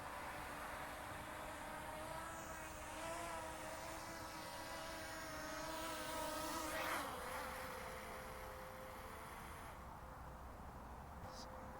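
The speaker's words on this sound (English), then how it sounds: "Nice smooth landing, totally unmanned, and that's the return to home" A small Loolinn Z6 Pro drone under 250 g lands automatically on return to home, its steady high-pitched propeller whine buzzing close and continuous, with a brief swell in pitch before the motors settle.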